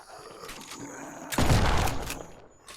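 A shotgun blast in the survival game No One Survived: one loud, broad boom that fades over about a second, set against a steady bed of game ambience.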